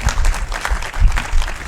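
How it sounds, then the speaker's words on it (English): An audience at an annual gathering breaks into applause, a dense, close patter of many hands clapping that swells and dips over a short stretch. "Can we clap for my sister Elsie"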